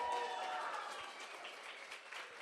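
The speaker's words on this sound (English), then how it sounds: "Can I hear a round of applause for them one more time?" Brief, steady applause from an audience at a poetry grand slam event, a dense wash of clapping that stays fairly even, though quiet and somewhat distant, for a couple of seconds.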